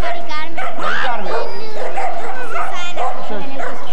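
Several dogs bark, yip and whimper loudly and up close in a continuous, overlapping burst of excited canine noise for a few seconds.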